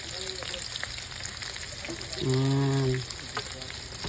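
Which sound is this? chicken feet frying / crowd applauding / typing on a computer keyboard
chicken feet frying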